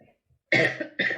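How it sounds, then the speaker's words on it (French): Two loud, close coughs in quick succession after a brief quiet pause, the first longer and harsher, the second short. "On parle de maladie, je tousse."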